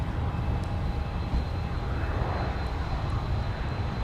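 A United Boeing 737-800 taxis toward runway 17 for departure to Denver at Minneapolis–St. Paul airport, its jet engines giving a steady, loud broadband rumble and hum that holds evenly throughout with no talk.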